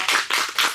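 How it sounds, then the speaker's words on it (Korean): Three short bursts of hand clapping welcome the CEO of Solbawi Farm, an apple-growing orchard, to a talk, loud and close with no voices over them. "우리 솔바이농원 대표님 뜨거운 박수로 환영해 주시기 바랍니다"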